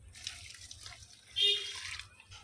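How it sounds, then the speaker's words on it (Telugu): Running water trickles and splashes steadily at close range, with a brief louder gush partway through, as about half a litre of water is poured onto each potted plant. "అన్ని మొక్కలకి తగిన మోతాదులో వాటరింగ్ అనేది చేసేసుకుందాము"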